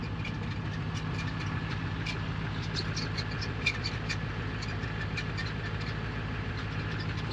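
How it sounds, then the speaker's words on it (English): A work truck engine idles with a steady low rumble and a faint knocking, running continuously at a moderate level with light clicks and ticks above it and no talk. "This truck's making noise."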